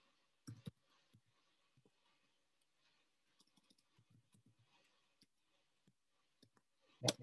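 Sparse mouse clicks while working in EViews regression software, a few short, quiet taps scattered across near-silence, with a louder click at the start and end.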